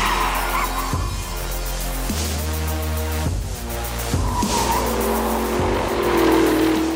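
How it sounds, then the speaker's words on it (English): A Porsche Cayenne pulling hard at full throttle out of a corner, its engine rising and shifting through gears loudly and close, with tyre noise and no talk. "Coming out of this corner, you have plenty of steering angle, full throttle, loads of power."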